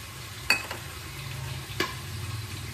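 A spoon stirs cauliflower stems with slit chillies and tomato in a pan, giving two sharp scrapes over a soft, steady sizzle, close by with no talking.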